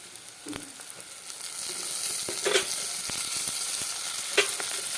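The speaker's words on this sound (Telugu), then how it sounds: "ఇంకా మనకు ఉల్లిగడ్డలు వేగిపోయినాయి." Onions and coriander leaves fry in a pan, giving a steady low sizzle with intermittent crackles and soft stirring scrapes, heard up close and alone while cooking a flattened-rice breakfast.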